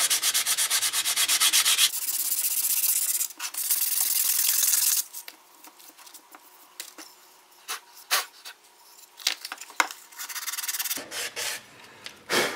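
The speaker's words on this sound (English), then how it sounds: "So I think I want to sand it a little bit. It's got a few rough spots and stuff." Sanding a wooden deer horn mount made from scrap wood, a steady loud rubbing rasp close by, then a pause and shorter irregular scrapes and strokes before the continuous sanding resumes.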